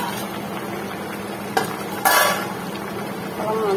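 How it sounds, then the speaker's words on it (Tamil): Potato milk curry bubbles in a pot while a spoon stirs it, with a soft steady simmering hiss and a couple of close metallic clinks and scrapes against the pot. "திறந்து பார்ப்போம் குழம்பு கொதிக்கிட்டு."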